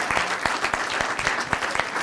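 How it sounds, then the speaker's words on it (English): A crowd applauds steadily at a city State of the City address in Kirkland, a continuous patter of many hands clapping, full and close, without voices. "I think there's applause should happen."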